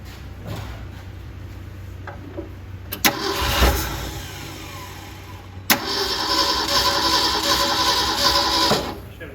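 A 1971 Ford engine, parked for 34 years, cranks with a brief rattle, catches with a sharp burst, then runs roughly at a loud steady idle, with a voice speaking briefly.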